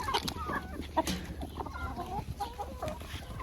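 Several hens cluck and murmur close by in an irregular, busy stream of short calls, with no talking.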